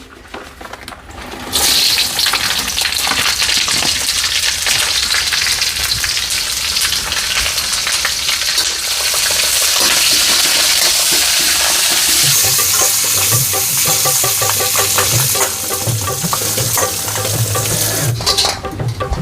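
Small chopped green chillies dropped into hot oil on a tava, bursting into a loud, continuous close sizzle after a quiet start and crackling on steadily with stirring for a chutney.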